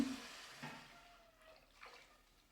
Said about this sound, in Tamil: நான் இப்போ சேர்த்திக்கலாம் தேவையான அளவுக்கு தண்ணி